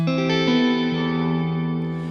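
A single heavily processed electric guitar chord rings out, harsh and dissonant, sustaining with shimmering effects as it slowly decays.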